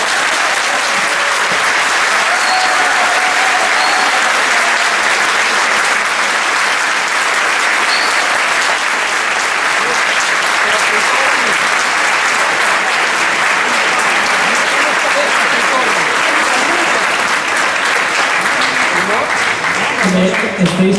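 An audience at a forum applauds, dense continuous clapping that holds at a steady loud level for about twenty seconds and tapers slightly at the end.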